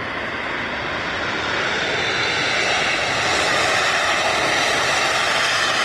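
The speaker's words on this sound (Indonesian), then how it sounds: "Wow, lihat teman-teman, ini pesawat Airbus" An Airbus A380 airliner's engines roar in a steady, broad, loud rush that swells slightly and holds without a break, with no voices.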